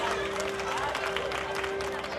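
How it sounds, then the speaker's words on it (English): Applause from an audience at a school annual prize ceremony, a steady wash of many hands clapping throughout with a constant electrical hum and a murmur of voices underneath. "Please give him a big round of applause."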